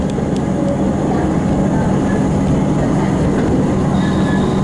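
A continuous loud rumble of a train on the Upfield line rolling into a station, with steady wheel noise and faint high squeals over the roar.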